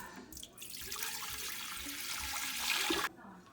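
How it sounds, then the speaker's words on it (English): Water pours steadily from a tap into a bowl for Neapolitan pizza dough, a continuous close splashing rush lasting about three seconds before cutting off abruptly. "let's put in the water."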